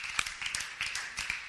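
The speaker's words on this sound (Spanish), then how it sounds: "dele un fuerte aplauso al Señor" Church congregation applauding with scattered, fairly faint hand claps in a steady patter, with a little background noise.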